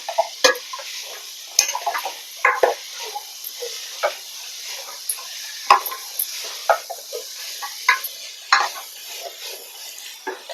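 Shallots and bitter gourd sautéing in a pan for a Kerala bitter gourd thiyyal, a soft steady sizzle under frequent close clinks and scrapes of a spoon stirring against the pan.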